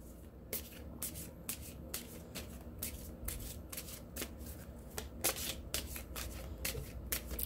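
A deck of oracle cards is shuffled close up and quietly, giving repeated soft riffling and rubbing bursts in an irregular rhythm with no talk over it.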